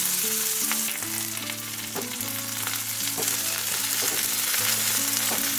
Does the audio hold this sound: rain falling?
no